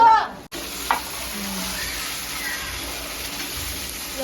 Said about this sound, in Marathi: धनिया पड़ने के बाद तब इसमें दाल डाल दिया जाएगा तो दाल फ्राई है